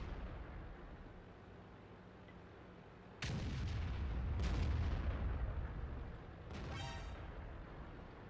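A tank cannon in the World of Tanks video game fires three loud, booming shots, each a sharp blast followed by a rumbling decay, with the last shot carrying a metallic rattling tail.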